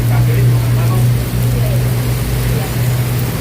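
Dense, steady rain pouring down over Kali Baru in Tambun, Bekasi, as a constant hiss, with a low hum running underneath throughout.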